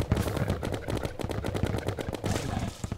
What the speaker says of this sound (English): Taking this demon down with a machine gun.